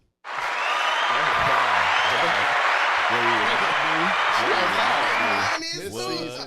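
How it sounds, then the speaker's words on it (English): A dense wash of applause and cheering from a crowd breaks out after a quiet start and holds steady, with people talking over it near the end. "Round of applause for me."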